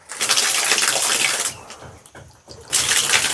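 Water gushes from a tap in a second-floor washroom, a steady loud rushing flow that drops off briefly in the middle before surging back at full strength, with no talking.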